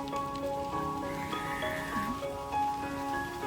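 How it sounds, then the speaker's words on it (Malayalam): Light rain falls at a hilltop viewpoint, a soft, steady patter heard quietly throughout with faint tonal sounds mixed in and no talking. "ഇപ്പം മഴയായി."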